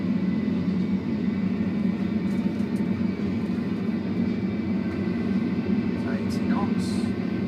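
An airliner at Stansted accelerates down the runway for takeoff, its engine roar loud, dense and steady for the whole stretch, heard from inside with voices talking over it.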